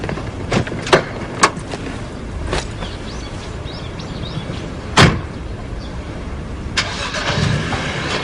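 A car's engine starts up, preceded by several sharp door and key clunks, then a low rumbling turnover with a brief burst near the middle and a rising engine tone at the end, close by, without speech.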